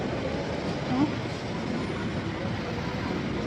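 A Paris metro train gives a steady, loud rolling rumble throughout, with one brief louder bump near the start.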